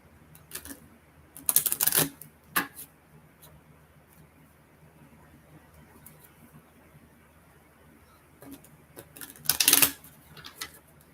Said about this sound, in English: Shuffle them together.